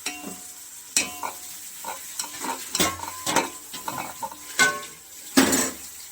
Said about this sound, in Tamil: வெங்காயத்தை எடுத்து நல்லா கிளறி விட்டுக்கணுங்க